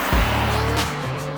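A Porsche Cayenne climbing a mountain road in Arunachal Pradesh, its engine note droning steadily and close for about a second before easing off, with tyre and road noise underneath.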